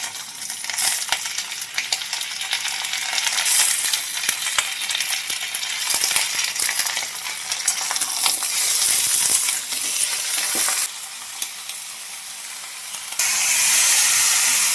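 Chicken pieces and capsicum fry in a hot pan, a steady loud hiss and sizzle with scraping stirs and occasional clinks, no voices.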